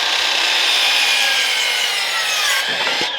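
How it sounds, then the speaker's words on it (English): A double bevel compound miter saw makes a 45-degree cut in a garage, a loud close blade whine running through the workpiece for a few seconds before the cut finishes and the pitch falls. "It is a double bevel compound miter saw."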